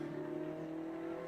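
Hublot safety car engine running at the Imola circuit during a Trofeo Pirelli race, a steady droning motor tone held at constant pitch throughout, moderately loud with no voices.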